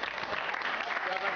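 A short burst of dense studio audience applause on a French football television show, steady clapping from many hands filling the space.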